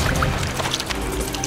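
Cartoon floodwater rises with a brief gush of pouring, splashing water and a few drips.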